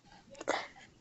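A single short sneeze bursts out in the middle of quiet background, sharp and fairly close.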